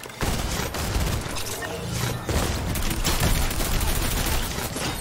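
Gunfire from a weapon in Fortnite rattles off in dense, rapid bursts, loud and close, layered with game mechanism clicks and effects throughout.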